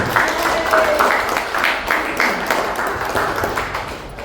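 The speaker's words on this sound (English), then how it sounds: "let's give her a round of applause for the help here today" Audience applause at a small community gathering inside a hub with a coffee shop, a steady wash of clapping from a modest crowd with a few chattering voices mixed in.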